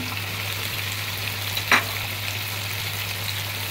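Onion and carrot fry in a pan for chicken chowmein, a steady, dense sizzle with a single brief clink of a utensil partway through.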